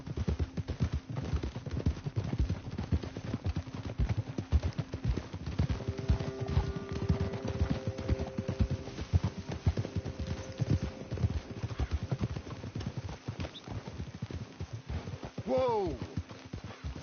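Horse hooves clip-clop steadily in Red Dead Redemption 2, a fast, regular patter of hoofbeats running continuously at close range beneath game music tones, ending with a horse whinny near the close.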